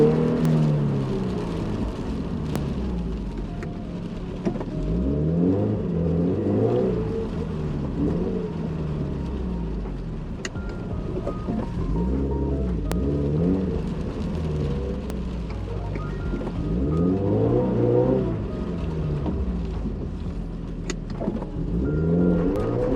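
A Toyota GT86 slides on a very slippery wet Silverstone track, its engine revving up and down in repeated surges with steady tyre and spray noise, heard from close by throughout.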